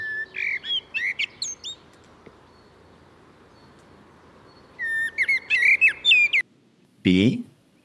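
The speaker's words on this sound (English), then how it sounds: "Let's play just the bird song again." Bird song from a pop culture clip plays as two bursts of quick, bright chirps and whistled notes separated by a quiet gap, followed by a short squawk at the end.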